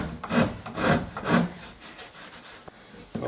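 A file pulls across the cut edge of a Citori shotgun's wooden stock to remove bandsaw marks, three slow, close rasping strokes followed by lighter scrapes and quiet handling, with no voice.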